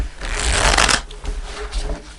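A deck of tarot cards is shuffled up close, with a loud riffling burst followed by softer slides and flicks of the cards, all without speech.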